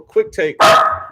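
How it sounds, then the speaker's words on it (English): A dog barks at a delivery person, giving a couple of short yips and then one loud, sustained bark, close by, with people talking around it. "No, that's my dog."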